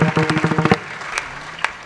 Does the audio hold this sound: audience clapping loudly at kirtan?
yes